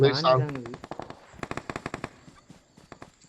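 Rapid automatic gunfire bursts from the Free Fire video game, a quick string of sharp shots after a brief spoken word at the start, then tapering into scattered fainter shots.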